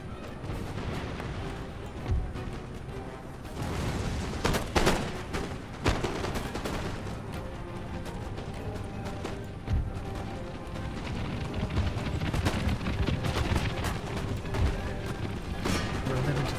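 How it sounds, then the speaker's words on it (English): Artillery firing on janissaries in a Total War battle, with repeated booming blasts and crackling volleys scattered over a dense, continuous battlefield din. "let's get my artillery to start to hit them"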